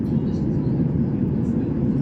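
A steady, low, droning hum fills the cabin of a 180-seat airliner in flight, with faint, indistinct speech under the engine noise.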